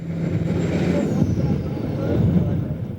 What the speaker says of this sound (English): The truck is mired in mud, spinning helplessly.